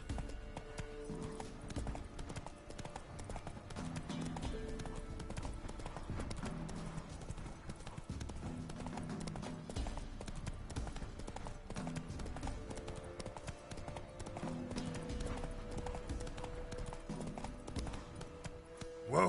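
Rhythmic clip-clop of horse hooves galloping steadily through the open world in the video game The Witcher 3, over a dense game soundtrack.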